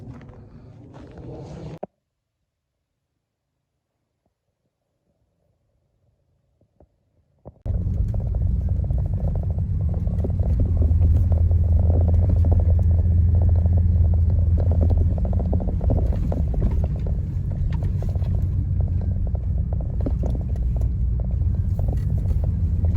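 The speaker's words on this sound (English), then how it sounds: "I'm slowly driving my way out of here." A van pulling slowly away, a steady loud low engine and road rumble that begins after a short silence and continues unbroken, with no talking.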